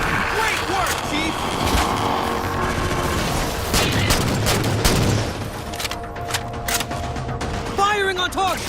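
Halo 4 combat with weapons firing continuously. Steady volleys and booms run throughout, loud and dense, with voices calling out over the battle.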